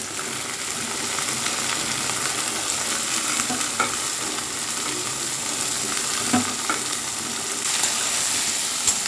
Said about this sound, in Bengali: রসুনটা ভাজা ভাজা মতো হয়ে গেছে, এবার আমি এর মধ্যে আলুটা দিয়ে দেবো